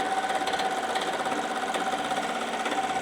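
An embroidery machine stitches with a steady, fast mechanical chatter and hum that stays close and even throughout, with no voices.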